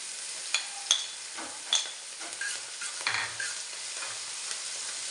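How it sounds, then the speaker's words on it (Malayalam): Fried rice with the white part of spring onion and celery being stirred in a hot pan: a soft steady sizzle with a few sharp spatula knocks and scrapes, close by. "നന്നായിട്ടൊന്ന് ഇളക്കി കൊടുക്കാം."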